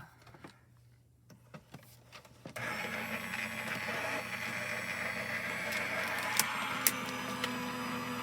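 After a few faint clicks, a Gemini foil and die cutting machine starts up and runs with a steady motorized whir, punctuated by light ticks as it cuts cardstock with a large butterfly die.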